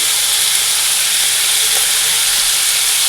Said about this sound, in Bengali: ওই তেলের মধ্যে বসিয়ে দিলাম আমি কালো জিরা আর কাঁচা লঙ্কা ফোড়ন দিয়ে